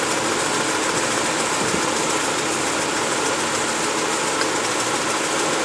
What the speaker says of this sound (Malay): Pun sama juga, tak ada perubahan apa dengan enjin ni. Mana enjin ni still vibrate dan tak mati pun.